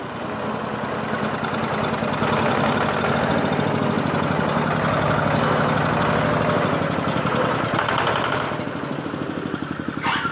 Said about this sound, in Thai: ขับรถไถดัดแปลง